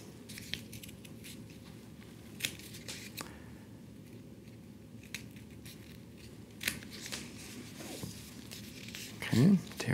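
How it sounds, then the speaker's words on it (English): Scissors snipping two small holes in a strip of KT tape, a run of soft crisp cuts close by over constant background noise, with no talk over them. "Cutting two small holes."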